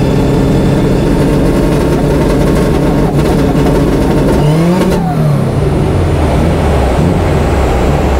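A 500+ bhp Subaru Impreza STi bugeye, heard up close and very loud, holds a steady raspy rev before a sweeping pitch change rises and settles into a lower, rumbling drone with another small climb near the end.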